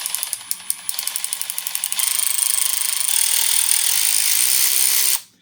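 A SeeSii cordless power ratchet wrench runs slowly, giving a quick series of close, sharp ratcheting clicks. These merge into a steady high whirring whine for a few seconds before stopping abruptly.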